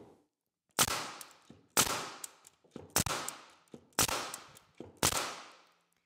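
A finish nailer shoots nails into wood, five sharp loud cracks spaced about a second apart, each followed by a short fading ring, in a quiet room.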